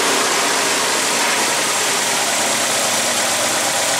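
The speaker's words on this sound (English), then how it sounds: "I'll hit the gas now" Geo Tracker engine with an alternator conversion, revved under the gas pedal, giving a steady, loud, broadband engine roar that holds for several seconds with no talking.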